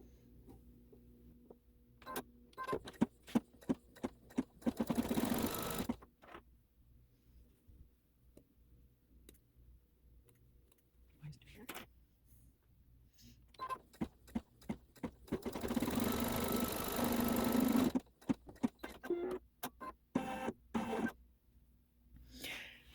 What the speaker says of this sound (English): Now we're going to be sewing the stripes on the post.